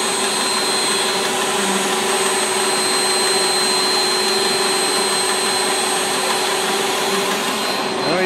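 A FORCE2 high-pressure blower motor runs at steady full power throughout, a loud continuous whine-and-rush with a few sustained tonal lines, alone with no talk.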